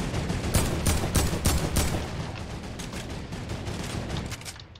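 Turret gunfire in the video game Fortnite, a rapid continuous burst of shots that gradually thins out, steady and moderately loud with no talking.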